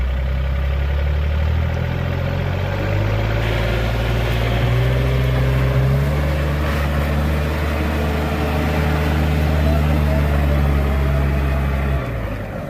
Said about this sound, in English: drive it the opposite direction so they can see all the controls work in reverse